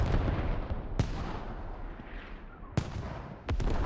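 Heavy artillery booms in a military video game battle, a sustained rumbling barrage punctuated by three sharp, loud impacts spread across the clip, with no voices.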